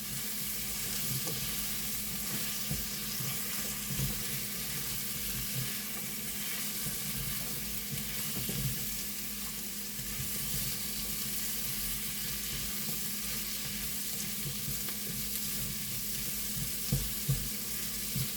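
Chopped zucchini frying in a pan, a soft, even sizzle running throughout with intermittent light stirring scrapes, fairly quiet and close.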